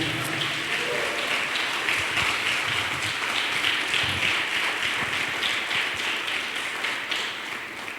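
A church congregation applauds, a dense, steady clapping that fills the room and tapers slightly toward the end.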